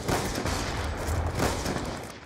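Rapid automatic gunfire in a first-person shooter video game, loud sustained bursts with a few short gaps, no talk.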